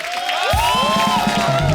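Studio audience at a television comedy show bursts into applause and cheering partway through, a dense crowd roar following a brief moment of a voice and tones.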